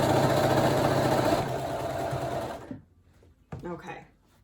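A sewing machine stitches a running skirt in a loud, steady mechanical whir for about two and a half seconds, then stops; a few brief bumps and handling sounds follow in the quieter end.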